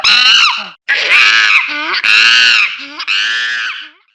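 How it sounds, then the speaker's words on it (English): A monkey gives a run of shrill, wavering screams in four or five loud calls with short gaps between them, close by and with no talk. "Monkey."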